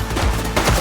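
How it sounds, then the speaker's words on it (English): A brief, close volley of rapid gunshots from the police game The Precinct, two or three quick cracks run together in under a second. "Shots fired!"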